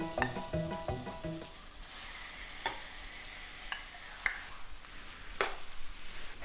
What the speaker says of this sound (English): the onions have turned golden brown and we could add the chicken.